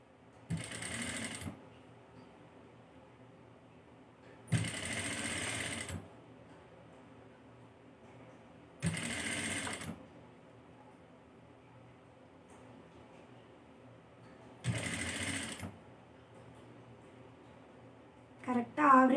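A sewing machine stitches piping onto a baby dress neckline in four separate bursts of a second or so each, separated by quiet pauses, close and clear with a soft voice speaking in between.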